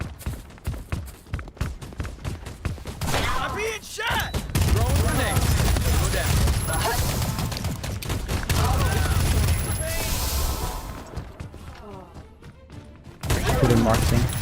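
Rapid gunfire and bursts of automatic shooting crackle through an orc-themed strategy video game, dense and loud, with booms and footsteps, while a player talks over much of the action.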